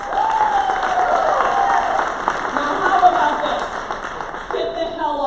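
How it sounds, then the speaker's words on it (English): Crowd applause for young Republicans at a New Hampshire GOP annual meeting: steady, dense clapping from a large indoor audience throughout, with a voice speaking over it. "a round of applause for the young Republicans that are the boots on the ground for us"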